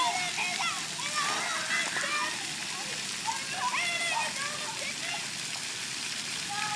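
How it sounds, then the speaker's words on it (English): Water spraying at a spray park, with constant splashing and spattering like heavy rain on the ground, while children's excited voices and shouts carry over the top the whole time. "shooting everybody with the water gun."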